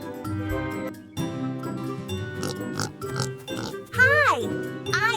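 A claymation cartoon pig in a kids' farm story gives voiced oinks near the end, a voice imitating the pig over cheerful music following other spoken character lines.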